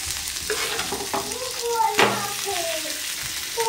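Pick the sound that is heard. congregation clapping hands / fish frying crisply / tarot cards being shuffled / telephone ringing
fish frying crisply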